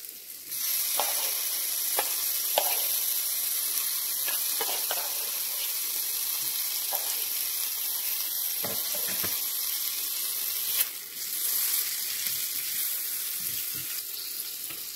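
Chopped tomato tipped into a pan of lightly fried prawns sizzles steadily for the whole stretch, a bright continuous hiss broken by occasional clicks and scrapes of stirring, close and fairly loud with no talk.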